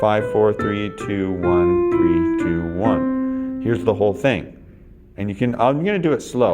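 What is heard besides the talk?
None of the usual background noises is heard.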